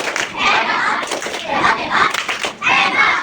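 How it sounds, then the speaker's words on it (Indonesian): An Indonesian primary science class does a rhythmic group clapping chant, children's voices and hand claps mixing in short bursts, loud and close, with the kids speaking throughout. "Ya, tepuk hebat."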